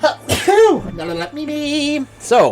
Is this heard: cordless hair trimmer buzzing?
no